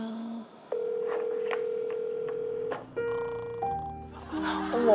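A phone rings unanswered, a steady electronic tone holding for a couple of seconds and then shifting into a melodic ringtone pattern, moderately loud with no voices over it.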